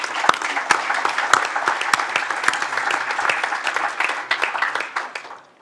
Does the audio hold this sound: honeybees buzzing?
no